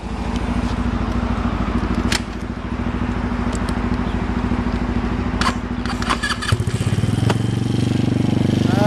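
A Honda Ruckus scooter engine starts and settles into a loud, steady, close-up putter with a few clicks and rattles over it, then revs briefly near the end.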